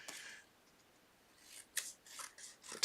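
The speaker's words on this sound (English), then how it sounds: "So I need to just here cut this a little bit more" Scissors snipping through card stock while trimming a handmade Father's Day card, with a soft rasp early on, then a cluster of short crisp cuts toward the end, close and fairly quiet.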